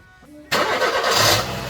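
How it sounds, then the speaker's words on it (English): Suzuki Swift GLX 1.5L engine cranking briefly and catching, then settling into a steady, close mid-pitched idle. "I did actually take the car for a test run just after this quick shot of the car running"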